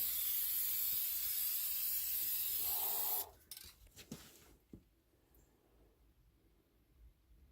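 A spray can used for hydro dipping sneakers hisses in one steady, close burst for about three seconds, then stops, followed by a few light clinks and handling noises.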